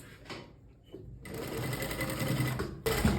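Sewing machine stitching folded fabric strips for a structured flower sleeve, running in steady bursts with a short pause, close and fairly loud.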